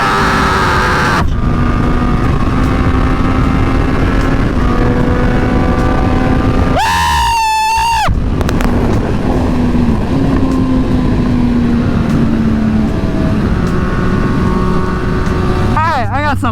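A motorcycle accelerates hard from about 30 to 60 mph, the engine pitch climbing through gears under loud, constant wind roar, with a voice briefly talking over it.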